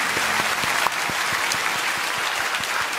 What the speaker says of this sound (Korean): 우리 저 아기들, 그 가정들 큰 박수로 축복해 주시면 감사하겠습니다.